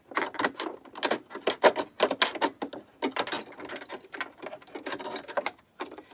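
A home embroidery machine stitches a heart corner bookmark, its needle hammering in a rapid, steady mechanical patter close by, broken by brief pauses, and nobody speaks.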